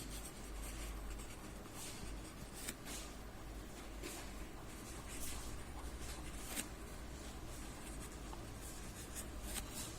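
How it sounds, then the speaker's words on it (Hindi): Pen or marker writing a chemistry definition by hand: continuous soft scratching strokes with brief lifts between words, close and quiet over a steady low background hum, with no voice. "So definition लिख दे रहा हूँ मैं."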